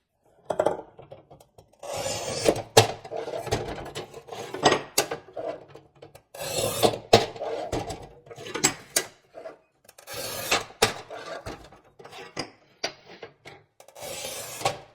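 The measuring stop on a Montolit Masterpiuma P5 manual tile cutter is slid and repositioned, giving bursts of metallic rubbing and scraping with sharp clicks in between. It is close and intermittent, with short pauses and no talking.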